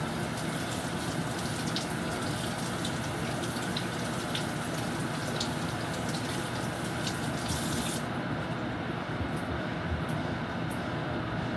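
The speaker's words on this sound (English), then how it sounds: "Make sure I wash these okra properly." Okra is washed under a running tap, a steady rushing splash of water that continues for about twelve seconds, heard close and without talk, its brighter hiss dropping away near the end.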